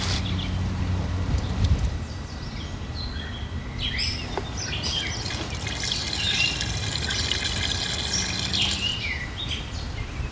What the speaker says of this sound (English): right now we're going to go ahead and water them